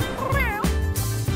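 A cat gives a clear, close meow that slides in pitch, followed by a couple of shorter meows, over a low background rumble.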